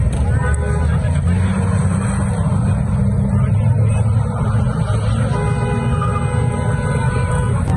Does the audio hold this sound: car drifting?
yes